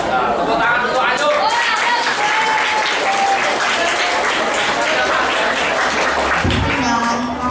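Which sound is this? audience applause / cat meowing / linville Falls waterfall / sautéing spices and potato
audience applause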